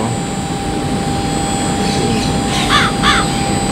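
A crow caws a few times in the distance in Singapore over a steady roaring background drone.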